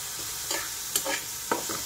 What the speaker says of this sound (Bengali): এবার এটা একটু ভাজা ভাজা হবে